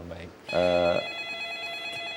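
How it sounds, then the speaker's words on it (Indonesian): A telephone rings briefly with an incoming call, a short loud tonal burst in the middle, while someone talks before and after it. "Nampaknya kita angkat terlebih dahulu nih, telepon masuk"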